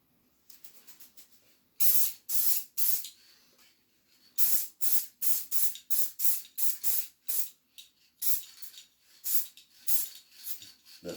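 Aerosol spray can laying a second coat onto a pinball machine backglass, a series of short sharp hissing bursts in irregular rhythm, close and loud against near silence.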